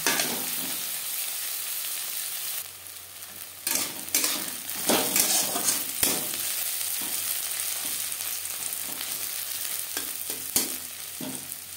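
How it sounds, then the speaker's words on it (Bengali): Chopped onions sizzle steadily in a hot pan as they fry until reddish, for a sim boti dish, with occasional spoon scrapes and stirring clatter up close and no talking. "পেঁয়াজ লালচে করে ভেজে নেব"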